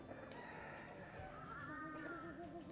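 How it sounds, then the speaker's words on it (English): Chickens on the grounds of a Thai temple, with clucking and crowing-like calls plus a rising warbling cry over steady ambient bustle and faint background voices. "You see how many chickens they got out here. Chickens and pigeons every which direction."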